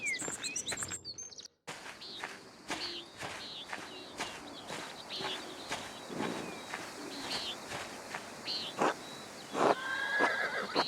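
Horses neigh and whinny in the video game Pentiment, with bird chirps and a few hoof clops in a quiet outdoor scene, and no talking.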